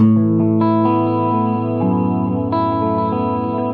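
Sustained musical tones pass through a recreated Echoplex EP-3 tape echo, giving a smeared, slightly wavering repeat with chorus-like shimmer as notes shift and overlap, loud and continuous without speech.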